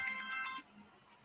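A phone ringtone for an incoming call plays a bright electronic melody for about half a second, then cuts off, with a faint new chime starting at the very end.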